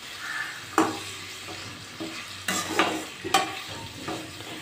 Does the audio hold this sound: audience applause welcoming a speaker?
no